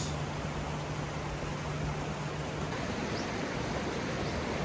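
A river flows beside a tea garden in Japan, giving a steady, faint, even rush of water with no other sounds.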